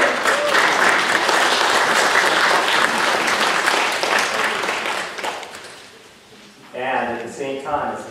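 A church congregation applauds loudly and steadily for about six seconds during a worship service, the dense clapping fading out before voices begin talking near the end.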